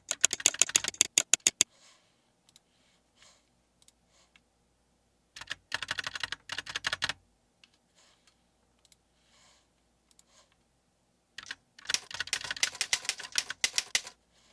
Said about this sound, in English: you can make it so that the key presses make a clicking sound from your PC speaker or headset